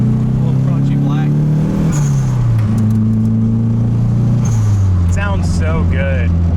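A K-swapped, rear-wheel-drive Nissan Cefiro engine revs up and settles in steps, a loud, close, steady drone with pitch rising and falling between blips, with people talking over it.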